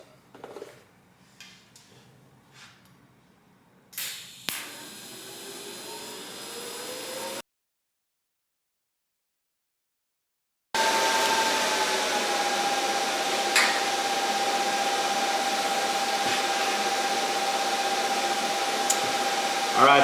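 TIG welding arc from a Miller Multimatic 220 on 1/8-inch material at the 120 setting, a steady loud hiss with a thin whine running unbroken for about ten seconds after a pause, with foot-pedal control.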